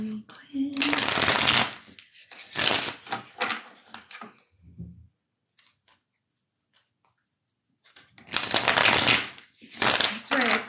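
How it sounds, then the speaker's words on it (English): Tarot cards shuffled by hand in bursts of rapid riffling and flicking, close and crisp, separated by a quiet pause and brief bits of talk. "I swear I forgot how to shuffle all of a sudden."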